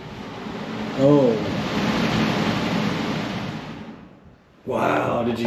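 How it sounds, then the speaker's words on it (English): Air gusting up through a hole from an underground sea tunnel at a coastal clifftop fortress: a broad, loud roaring whoosh that swells and holds, fades almost to quiet, then bursts up again, with a voice briefly heard near the start. "That was the air rushing up."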